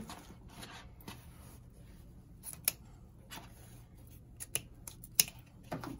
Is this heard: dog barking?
no